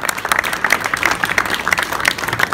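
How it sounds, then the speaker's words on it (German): A crowd at a motor show stand applauds a young boy who has won a football. The clapping is short, dense and fairly close, with a steady texture throughout. "Herzlichen Glückwunsch und nochmal einen Applaus."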